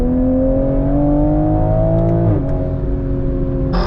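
A Toyota Supra 3.0 Premium sports car engine revs hard under acceleration, a loud, steady tone climbing in pitch with a brief dip partway through, heard alone from inside the car.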